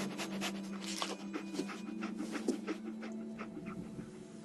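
Dogmeat, the dog companion in the video game Fallout 4, pants in quick, steady breaths, close and clear over a faint game hum, with no talking.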